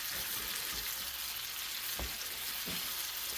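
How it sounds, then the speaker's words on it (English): Pheasant back mushrooms frying in a pan with olive oil and butter, giving a steady, even sizzle throughout, with a few soft clinks and stirring bumps, and no voices. "just drop it in the pan with the olive oil and the butter"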